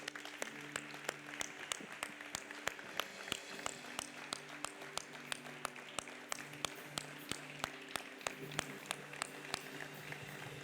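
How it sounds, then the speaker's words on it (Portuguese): A congregation at a Sunday church service claps for Jesus, a fairly faint run of applause with distinct individual claps and a background hum, with no talk. "Vamos dar uma salva de palmas para Jesus?"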